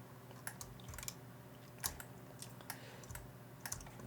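Keys clack on a computer keyboard in scattered, irregular taps, a few sharp presses standing out from a quiet room background. The sound is faint and close, with no speech.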